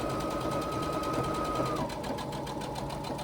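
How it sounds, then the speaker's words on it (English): A sewing machine runs steadily as it stitches the side seam of a crossbody bag, a continuous close mechanical whir with a sustained tone that drops in pitch partway through. "Pivot and come down and sew that side seam."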